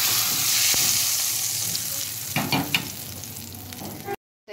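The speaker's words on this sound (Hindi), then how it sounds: "तड़का।" Spices sizzle and crackle in hot oil as a tempering for tomato chutney, a steady frying hiss with a few sharp pops and stirring sounds before cutting off abruptly.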